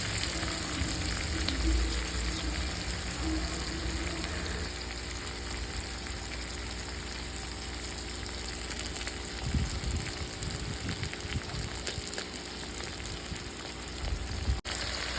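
Chopped tomatoes sauté in a pan for mutton gravy, giving a continuous close sizzle and hiss with occasional stirring scrapes, heard alone without voices.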